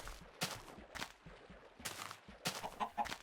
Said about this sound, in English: Here's a chicken.